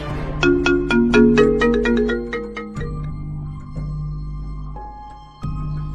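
A phone ringtone plays loud and close: a quick run of bright melodic notes, then slower sustained tones, with no one talking.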